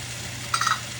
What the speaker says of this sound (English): And frying them all together. Cooking them for a little bit.